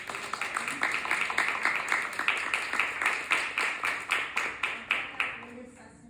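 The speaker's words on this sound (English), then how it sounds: "One more round of applause, please." A crowd claps for several seconds at a poetry reading, with dense applause that fades toward the end.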